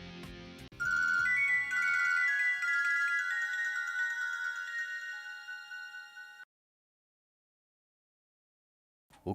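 A phone rings at night with an incoming call, a loud melodic electronic ringtone playing for several seconds before cutting off into silence, no voices.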